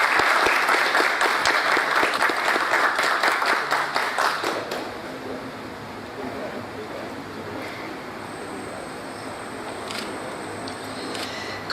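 A ceremonial audience at a heraldic society's opening session breaks into strong, dense applause that fades after about five seconds, leaving quiet room noise with faint clicks.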